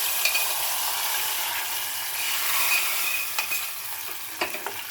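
A loud, crackling sizzle as hot oil tempering with onions and curry leaves hits a pot of gongura dal, with a few sharp spits and pops over a steady frying hiss.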